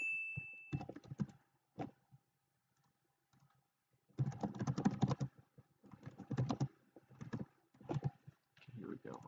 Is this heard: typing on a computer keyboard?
yes